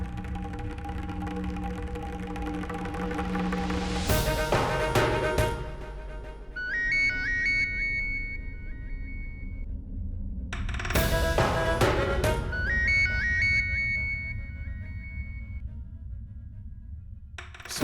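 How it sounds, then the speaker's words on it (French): Mobile phone ringtone rings out in a domestic drama scene, a chiming melodic tone that sounds in two bursts with a pause between, over a steady background of music. "Son téléphone sonne."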